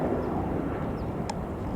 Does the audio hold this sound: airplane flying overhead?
yes